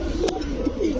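Pigeons at a shop selling racer, king and Sirazi breeds, cooing in low, throaty, rolling bursts close by over a steady background hum, with a brief rustle partway through.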